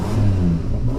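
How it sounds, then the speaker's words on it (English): A Nissan Maxima engine idles and revs, a steady low rumble close by with rising and falling pitch over about a second, no talk. "we're going to start the car, and you're going to hear the sound of the beast."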